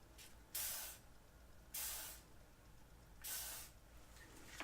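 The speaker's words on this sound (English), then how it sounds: "So I'm going to spray the gadget first." Three short sprays of WD-40 silicone lubricant aerosol, each lasting about half a second, hissing loudly over a quiet background with pauses between bursts.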